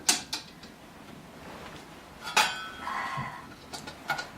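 A cast iron Dutch oven set down on a bed of coals outdoors, giving a few sharp metallic clanks and clinks with a faint scrape, close and fairly quiet.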